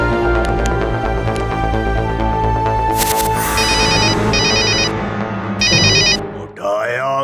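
A mobile phone rings in an animated cartoon, its electronic ringtone sounding in bursts over steady background music, loud and close.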